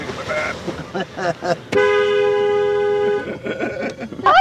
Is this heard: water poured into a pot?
no